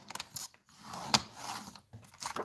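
Cardstock being cut with a trimmer or blade, giving a few short crisp slicing and clicking bursts between quiet gaps, close and fairly soft, with no talking.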